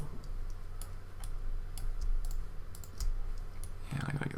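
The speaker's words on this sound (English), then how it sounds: "I'll press Z on my keyboard to go into wireframe mode" Computer keyboard keys are pressed during 3D modeling work in Blender, giving faint, irregular clicks and taps over a low background hum.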